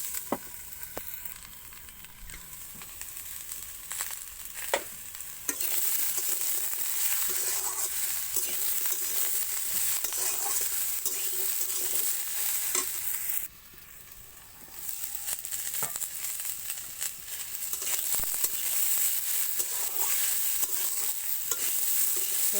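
Potato, eggplant and chickni greens stir-fry for chorchori in a pan, a continuous loud sizzle with repeated scraping stirs of a spatula, briefly quieter midway before the frying surges again, no talking.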